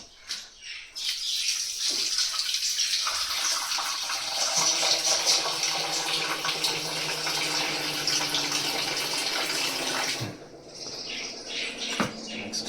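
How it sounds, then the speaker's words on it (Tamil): Water pours steadily into a container while a curd-based weight-loss drink is made in a kitchen, a continuous splashing hiss that runs for about eight seconds and then stops, with small clinks after. "தண்ணி ஊற்றிடுமா"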